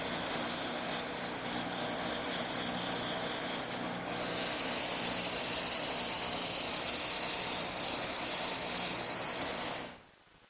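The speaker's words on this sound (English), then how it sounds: "sandpaper, I'll smooth it all out." Sandpaper is pressed against a wooden table leg spinning on a lathe, producing a loud, continuous close-up hiss with one brief dip midway before it cuts off abruptly.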